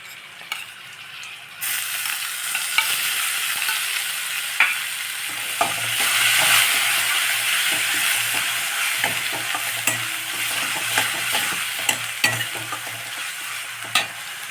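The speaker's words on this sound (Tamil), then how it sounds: "இப்போது நம்ம கொஞ்சம் தேங்காய் துருவல் போட்டுக்கலாம்" Tamarind poha with peanuts and grated coconut is stir-fried in a pan, a steady close sizzle with frequent scraping and clinking of the spatula against the vessel, no voices.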